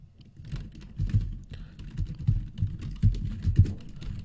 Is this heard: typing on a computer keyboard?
yes